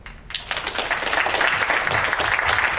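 An audience bursts into applause, steady dense clapping that swells quickly and holds at a moderate loudness.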